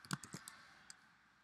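Computer keyboard typing, a quick burst of four or five light clicks followed by one more isolated click, faint and close in a quiet room.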